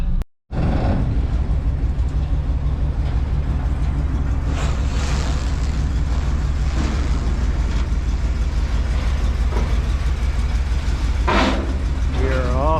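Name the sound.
old turbo GMC truck engine backing off a trailer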